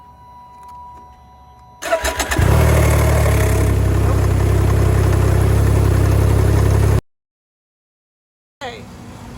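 The engine of a Can-Am Ryker three-wheeler cranks over after a click, then runs loud and steady for several seconds before cutting off abruptly into silence, followed by a fainter noise.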